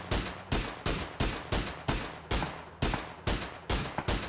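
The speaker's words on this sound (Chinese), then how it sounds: "突然感觉到底下有枪声" Rapid bursts of gunfire in a battle royale video game match during a pro esports final, with about nine sharp evenly spaced shots roughly half a second apart, loud and close, with no talk over them.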